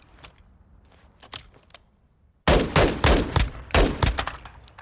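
MK18 CQBR rifle firing in Call of Duty Modern Warfare II, a few sparse single shots, then after a pause a louder rapid string of close, sharp gunshots.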